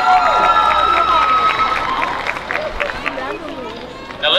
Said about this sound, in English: Nice round of applause for this group of ladies